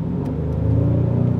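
A Hyundai Sonata N Line in sport mode gives a low, steady exhaust rumble during everyday driving, close and fairly loud with a slight rise in pitch.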